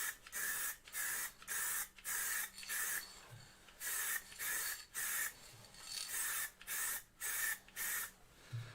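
Bursts of ebonising lacquer sprayed onto a spalted beech bowl, a close hissing spray in about a dozen short regular pulses with brief gaps between, no speech.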